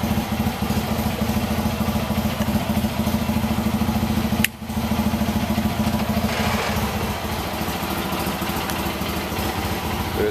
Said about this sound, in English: Starts up good every time, runs and drives real well.